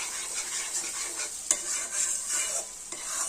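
Chicken gizzards and livers are stir-fried in a pan with fenugreek leaves and new potatoes, a spatula scraping and stirring in uneven strokes over a soft sizzle, close by, with a sharp clink of utensil on pan.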